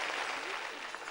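A studio audience at a Telugu game show claps in a short, dense burst of applause, close and even throughout.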